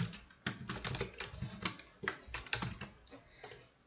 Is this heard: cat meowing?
no